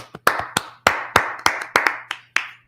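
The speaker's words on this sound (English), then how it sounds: "Let's clap it up for the Lord." About a dozen sharp hand claps in a loose rhythm at a church Bible class, close and fairly loud, with a low steady hum behind them.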